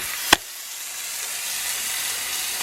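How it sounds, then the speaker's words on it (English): A piece of chicken frying in a pan, giving a steady bright sizzle that holds for the whole stretch, opened by one sharp click up close. "Sizzling up a piece of chicken right now"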